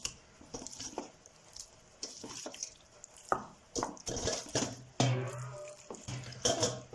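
Water runs from a tap in short bursts, splashing and squishing as chicken pieces are rinsed by hand, fairly close and quiet.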